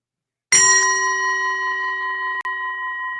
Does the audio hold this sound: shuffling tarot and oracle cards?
no